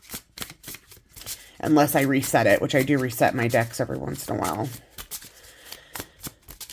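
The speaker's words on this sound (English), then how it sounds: "Okay, so shuffle." A tarot card deck is shuffled by hand in quick, crisp riffling bursts that run throughout, close by, while someone talks over the middle stretch.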